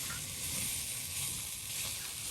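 Chopped vegetables, chilli and onion frying together in a pan for a dried fish chorchori in a village kitchen, giving a steady, close, dense sizzle with no talk.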